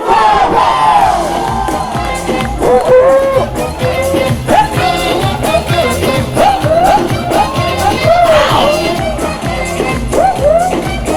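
Wedding reception crowd screaming and cheering loudly and continuously, with whoops and shouts rising and falling over dense, roaring hubbub.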